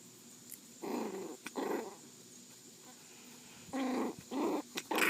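A foster puppy growls close by in four short, low, rumbling bursts separated by quiet pauses, with no talking.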